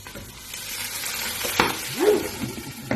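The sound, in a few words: garlic and onion sautéing in a pan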